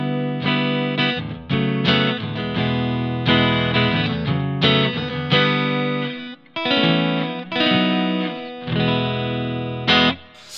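A 2018 Fender 60th Anniversary Jazzmaster electric guitar through an amp's clean channel, strummed chords in choppy bursts with brief pauses, bright and close, no talking.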